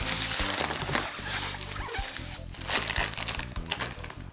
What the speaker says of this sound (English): I got the crisps in the back. In the bag. I'll open it up.